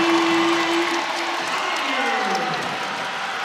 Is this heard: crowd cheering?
yes